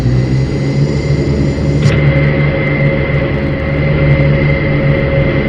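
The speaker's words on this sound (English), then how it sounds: "I am driving the plane." A turboprop airplane engine in the Turboprop Simulator video game hums loudly and continuously with a steady droning tone and a brief click partway through, with no talking.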